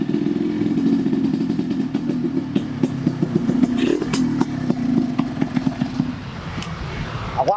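A motorcycle engine runs steadily nearby with a low, even rumble, light clattering on top, and a brief rise in pitch near the end.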